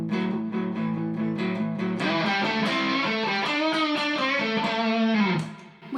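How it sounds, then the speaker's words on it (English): An electric guitar through a distortion pedal plays a chordal riff with a gritty, overdriven tone, loud and sustained, ending with a fading note. "You can stomp on the distortion pedal,"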